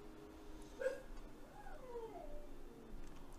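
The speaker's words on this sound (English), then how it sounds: "Oh no, my dog's crying." A dog whimpers faintly in a quiet room, giving a short high cry and then a longer wavering whine that rises and falls, distant and soft against low background hiss.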